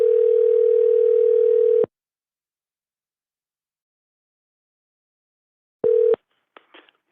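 A steady telephone dial tone hums for about two seconds before cutting off, followed by silence. A second short burst of tone and a few faint clicks of dialing come after, with no talking.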